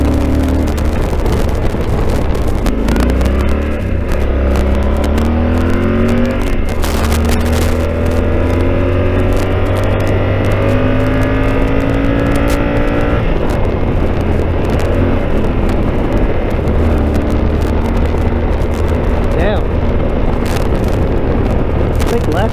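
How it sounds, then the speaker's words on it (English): A Yamaha Super Tenere motorcycle is ridden fast through corners. Its engine roars loudly, rising and falling in pitch through gear changes and throttle shifts, under constant heavy wind rush. "Man, this bike is so fast it makes my brain like push back."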